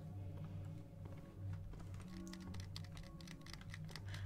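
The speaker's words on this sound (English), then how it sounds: "Oh, I hear clicking." Faint, quick clicking in the horror game Spooky's Jump Scare Mansion, a dense run of small taps over a low humming background, quiet and somewhat distant.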